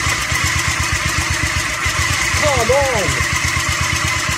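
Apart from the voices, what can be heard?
Briggs & Stratton small engine running after carburetor replacement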